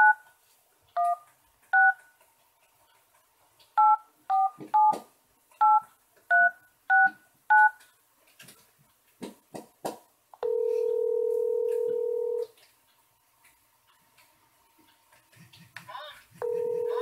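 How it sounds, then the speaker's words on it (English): Touch-tone dialing from a VoIP call placed on a Nexus 7 tablet: a quick run of paired DTMF beeps, then steady ringback tones with pauses, some faint handling noise between. "So I'm going to call my cell phone."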